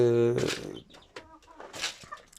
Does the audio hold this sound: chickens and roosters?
yes